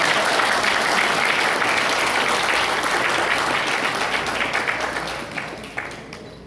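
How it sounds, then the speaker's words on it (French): Audience at a graduation ceremony applauding in a dense, loud, sustained wave of clapping that gradually thins and fades toward the end. "Applaudissements."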